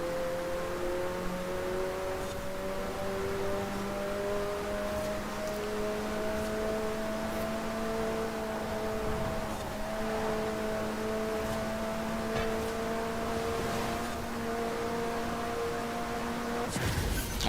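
A McLaren cruising in Forza Horizon 4 gives a long, even engine drone that barely shifts in pitch, sustained throughout with soft road rush beneath it and a brief burst at the very end, no talking.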